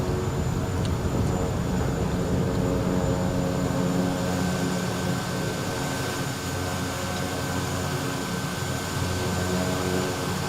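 Steady, loud aircraft engine drone inside Microsoft Flight Simulator, a constant tonal hum with a high whine holding unchanged throughout, no voices.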